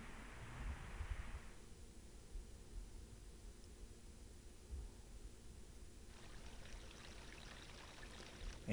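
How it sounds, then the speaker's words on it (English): Water flowing in the Zelda: Majora's Mask video game as its flow is restored toward a water wheel, a soft steady rushing that shifts in character partway through, quiet and continuous with no voices. "we have reestablished the flow of water"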